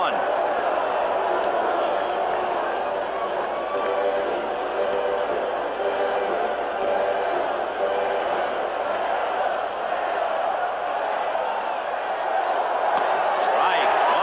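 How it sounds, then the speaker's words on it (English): A baseball stadium crowd roars steadily during a Tigers at White Sox game, a broad continuous wall of cheering that sits under a commentator's voice throughout. "Boy, listen to this crowd. They're alive now."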